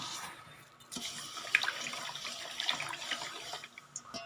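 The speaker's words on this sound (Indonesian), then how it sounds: "Aduk sampai gulanya larut ya." Sugar is stirred into salted water until it dissolves, giving soft liquid swishing and sloshing with a few faint clinks of the utensil at low volume and no voices.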